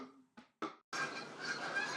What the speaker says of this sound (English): And the geese are at it again.